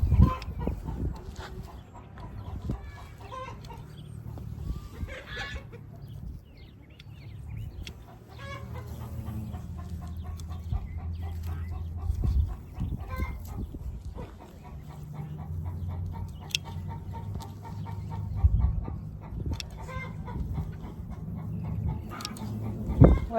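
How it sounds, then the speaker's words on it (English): Chickens cluck and mutter in a coop, a steady busy chorus of hens close by with scattered sharper calls and rustling, no talk over them. "These chickens are absolutely crazy."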